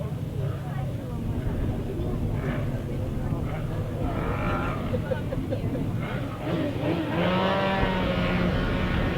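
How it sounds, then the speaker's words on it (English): Grasstrack racing motorcycles at a 2011 British Masters qualifier rev at the start line, their engine notes rising and falling in the background under steady race commentary and crowd noise. "Revving up and away then with race number 14."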